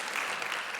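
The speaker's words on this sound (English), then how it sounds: "I want them all to get the full amount of applause" Audience applause for the writers at the 2023 Writers' Trust Awards ceremony, a steady, dense wash of clapping filling the hall with no break.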